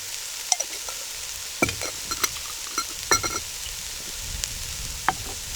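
Spices such as coriander, cumin and allspice are stirred into chipotle pork and beans in a pan, producing a low sizzle broken by several sharp scrapes and taps of the spoon, close and alone.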